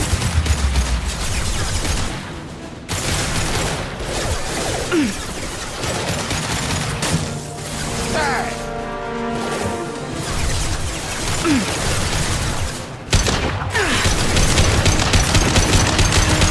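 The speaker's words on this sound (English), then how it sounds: "Checkpoint, open fire!" Sustained gunfire bursts in the Mass Effect 2 video game on Omega, loud automatic fire with crashes and impacts running through nearly the whole stretch, dense and continuous.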